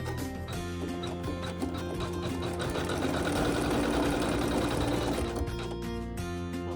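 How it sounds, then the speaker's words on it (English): A Navigator 10/20 sewing machine stitching quilting through fabric with backing on, a steady fast mechanical whirring and rapid needle clatter running throughout, close and alone. "you're going to sew some quilting right here in this area."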